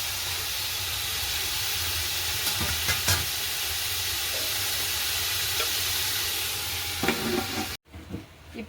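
Food sizzles and is stirred in a cooking pan, with a steady loud frying hiss and a few scraping stir strokes. It cuts off abruptly near the end, followed by brief quieter handling.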